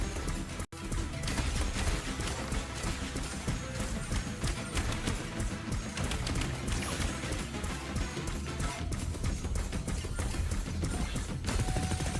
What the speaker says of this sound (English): Machine gun. I cast a machine gun.